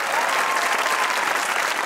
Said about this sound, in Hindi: इस बात पे तालियां बजाइए छोटी सी।